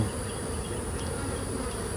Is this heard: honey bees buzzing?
yes